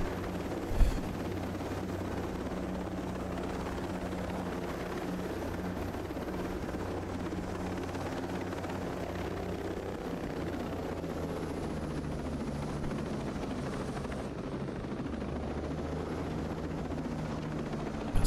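A helicopter drones steadily in the game Ghost Recon Breakpoint, its deep rotor rumble and engine hum holding near and constant throughout, with a single short thump near the start and no talk.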